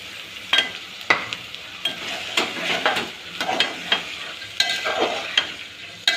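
Moth beans (matki) are stirred into onions sizzling in hot oil. A spoon scrapes the pan in repeated sharp strokes over a constant frying hiss, close up, and no one speaks.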